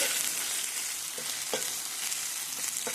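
Ginger and garlic fry in a pan with a steady, dense sizzle throughout, broken by a few faint utensil scrapes while the aromatics are browned until red.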